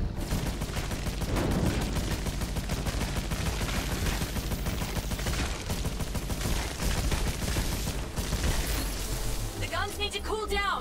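Spaceship guns firing in the PlayStation VR Worlds game, a sustained loud rapid stream of shots over droning engine noise and music, ending in a falling whine as the guns stop.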